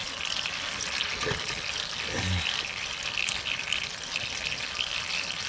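Transmission fluid drains from the loosened pan of a GXP 4T65E HD gearbox during a rebuild. A steady, close, hissing trickle of liquid runs throughout, with a couple of faint knocks.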